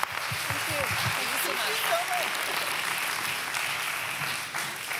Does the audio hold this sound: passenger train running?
no